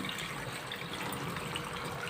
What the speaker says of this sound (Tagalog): magdadagdag lang ako ng tubig